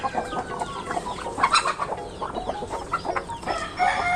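Native chickens cluck in a close, lively flock with a rooster crowing among them, overlapping calls rising and falling throughout without any talking.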